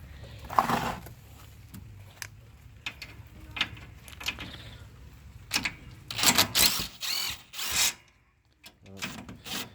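A half-inch impact wrench working on a riding mower axle, short bursts of rattling hammering at close range separated by brief pauses, louder toward the end, with some voice in the background.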